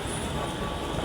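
An LRT train bound for Baclaran rumbles along the rails, a steady, fairly close low roar with a broad hiss that fills the whole short moment without a break.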